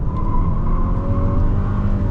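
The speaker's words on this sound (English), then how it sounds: "That was a bit more wheel spin" Hyundai Sonata N Line engine revving hard under acceleration with tyres spinning and squealing, a steady loud drone with a sustained whine throughout, heard from inside the car.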